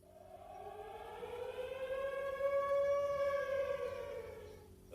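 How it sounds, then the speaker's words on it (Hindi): An earthquake warning civil defense siren in Israel wails, its tone slowly rising and swelling in volume before fading back down, sounding distant and mournful. "इजराइल में यदि तुम्हारे क्षेत्र में भूकंप आता है तो एक आवाजी चेतावनी सायरन भी दी जाती है।"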